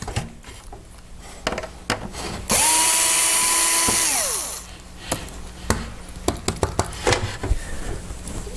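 A power driver removes screws from a circuit board in a heater, giving one sustained whirring run of about two seconds that rises and then winds down. Sharp clicks and handling knocks from the tool and parts come before and after it.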